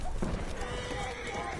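Horse hooves clip-clop in a PS4 video game, a busy, steady patter under voices talking over it.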